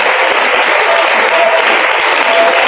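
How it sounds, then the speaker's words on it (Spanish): A church congregation claps loudly and continuously during an evening service, a dense, steady roar of many hands with faint voices mixed in. "Aplauda por favor su presencia en esta noche"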